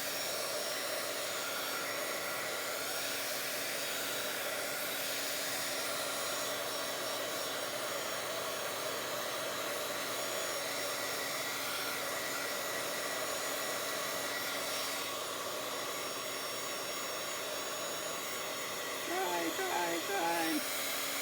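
A hair dryer blows a steady, soft whooshing hiss as it dries gel paint on a Bible journal page, running continuously at low volume throughout.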